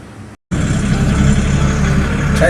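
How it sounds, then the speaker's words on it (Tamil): Heavy road traffic crossing the Kaveri bridge in Chennai, a loud, steady roar of car and truck engines that cuts out for a split second, then resumes as a continuous dense rumble. "சரியான டிராஃபிக்காக இருக்குங்க இன்றைக்கி."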